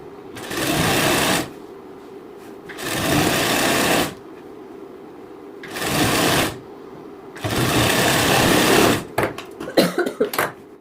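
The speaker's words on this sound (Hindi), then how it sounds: "और फिर आपको इसे बराबर करके इसके ऊपर आपको सिलाई लगानी है" Electric sewing machine stitching blouse fabric along a side seam, running in four steady whirring bursts separated by short pauses, close and loud, ending in a few quick stop-start stitches.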